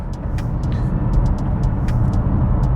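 A Hyundai Kona N Line car driving with steady road and engine noise, with several short sharp clicks and a brief squeal as it brakes, no talking.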